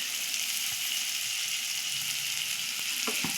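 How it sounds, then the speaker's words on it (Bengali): Onion, ginger and garlic frying in a pan for a fish chop, a dense steady sizzle filling the whole stretch, with a few soft knocks of stirring near the end and no talk. "দেখো এটা একটু ভাজা ভাজা হয়ে আসছে এর মধ্যে আদা রসুনটা দিয়ে দিচ্ছে"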